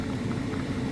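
Ginataang chicken simmering in coconut milk, a soft, continuous bubbling and low burble from the pot, steady and close with no talk over it.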